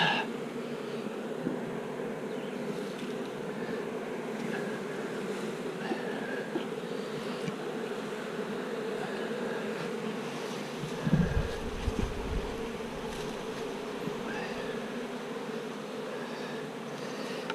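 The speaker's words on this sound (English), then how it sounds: "get these bees back in the box here." Honeybees buzzing steadily around a hive box as they are coaxed back inside, a continuous close drone with a brief knock of handling partway through.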